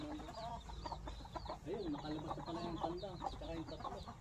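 Hen and three chicks clucking on a backyard farm, with repeated short clucks and peeping calls under a steady noisy background, close by and moderately loud.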